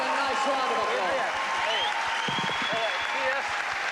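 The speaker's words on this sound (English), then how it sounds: "Get both boys a nice round of applause." Crowd applause at an amateur boxing show, rising for both fighters after a closely fought bout, a dense steady patter of clapping with cheering voices mixed through it.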